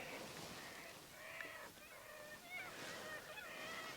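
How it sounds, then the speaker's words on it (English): Geese honk repeatedly outdoors, several overlapping calls at moderate distance over a soft background hiss. "Listen to those birds, they love it, don't they?"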